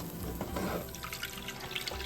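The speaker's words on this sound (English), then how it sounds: "Add some water to the blender jar." Water running into a blender jar in a kitchen while a Mangalorean fish curry is made, a steady splashing trickle at close range that carries on throughout.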